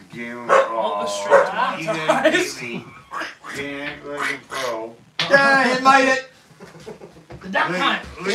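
Dogs bark and yip indoors, with sharp repeated outbursts mixed in with a person talking throughout.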